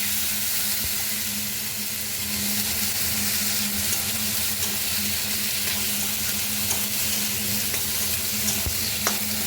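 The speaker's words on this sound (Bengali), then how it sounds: "জিরা আদা রসুন বাটা দিয়ে দিই, মশলাটা দিয়ে এটা আবার কষাবো আমি" A paste of ground cumin, ginger and garlic fries in a pan with a loud, continuous hissing sizzle, steady throughout with faint stirring scrapes and a low hum underneath.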